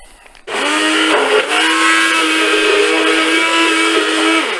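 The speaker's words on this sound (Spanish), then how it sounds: "voy a poner lo que es la batidora" A motor whirs up suddenly and keeps running at a high steady pitch, loud and close, with a brief dip partway through.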